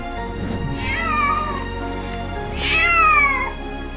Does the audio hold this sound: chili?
no